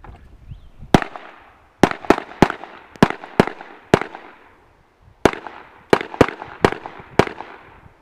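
Sharp, loud gunshots ring out during a driver contact shooting drill, fired in two quick clusters of about six and five reports with brief pauses between, each crack followed by a decaying echo.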